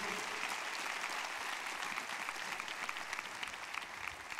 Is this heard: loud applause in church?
yes